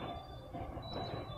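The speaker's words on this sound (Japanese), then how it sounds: "電車がやってきました。" A train pulling into a small unstaffed mountain railway station in Japan, a steady low rumble with a faint high tone from the rails, heard briefly and at moderate distance.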